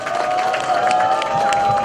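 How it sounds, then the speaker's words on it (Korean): Brief, dense applause and crowd noise fill a campaign office opening in Incheon as a National Assembly member is welcomed, the clapping steady and close with a sustained tone running beneath it. "윤상현 국회의원님을 큰 박수로 맞아주십시오."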